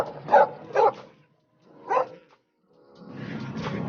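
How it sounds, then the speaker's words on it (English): A dog barks three times, two quick sharp barks close together, then a single bark after a pause, followed by a softer trailing whine or rustle; near and clear, no talk. "A dog barking,"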